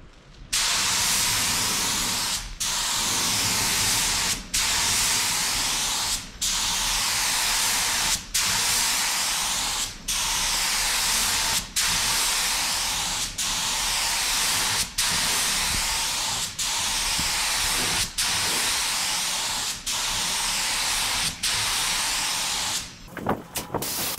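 A spray gun lays a second coat of paint on a station wagon's hood cover. Loud, steady hissing bursts run about two seconds each, separated by short, regular breaks.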